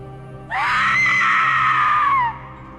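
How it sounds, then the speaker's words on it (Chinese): A single long, high-pitched scream rises sharply, holds for nearly two seconds, then cuts off, loud and alone against a quiet background. "她隐约听到另一声惨叫。"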